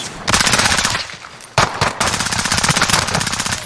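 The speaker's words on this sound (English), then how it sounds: "I just heard his gunfire." Rapid automatic gunfire from the Call of Duty Warzone video game, loud dense bursts that break off briefly around the midpoint and then resume nearly continuously.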